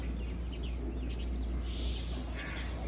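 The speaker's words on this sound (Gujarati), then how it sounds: "એ બે ચકલીઓ, 4 છે ચકલીઓ અંદર" Faint high chirps and tweets of sparrows over a low steady rumble, scattered and distant.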